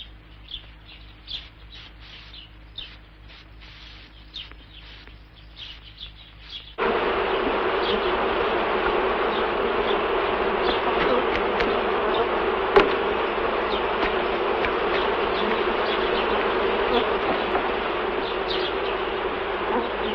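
A swarm of bees buzzes loudly and steadily, a dense drone that swells and stays strong after a softer, flickering opening of scattered insect buzzes, with faint bird chirps mixed in.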